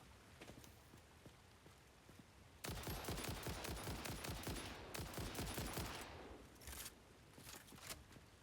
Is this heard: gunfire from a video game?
yes